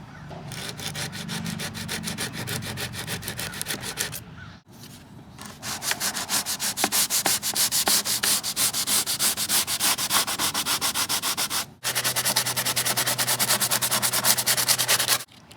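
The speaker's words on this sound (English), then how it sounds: "I'm going to use that block sander, and I'm going to come across here to make this edge sharp" Block sander rubbed steadily across the edge of a model boat sponson, continuous rasping strokes close to the listener with two brief pauses, loud and alone.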